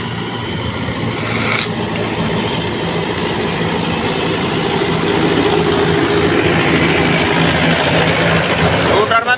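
Tractor pulling a rotavator through soil, a steady heavy diesel drone with a low rumbling churn throughout, loud and continuous close by.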